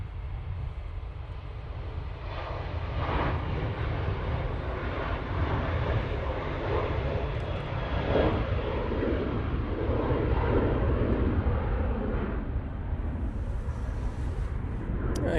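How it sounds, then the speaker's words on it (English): A Ryanair airliner takes off from Manchester Airport, its jet engines building into a sustained, rumbling roar with surging, rippling bursts that stays strong throughout and begins to ease toward the end. "There goes the Ryanair off to Bratislava."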